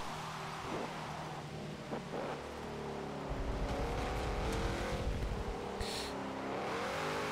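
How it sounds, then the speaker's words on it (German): Car tires spinning on a wet track in the Forza Motorsport 7 racing game, an engine revving and roaring loudly with a brief high squeal, steady and close throughout. "durchdrehende Reifen. Ja, bei Regen kann man damit schon mal rechnen."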